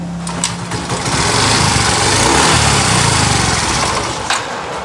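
A motorcycle with a misfiring engine that keeps dying on its own runs rough and uneven at close range, its sputtering tone rising and falling throughout with no talk.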